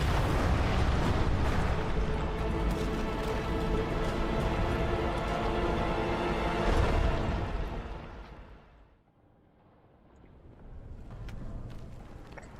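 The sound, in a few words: explosion in the video game Hollow Knight: Silksong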